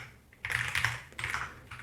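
Code being typed on a computer keyboard: two quick bursts of close, crisp key clicks separated by a short pause, with no voices.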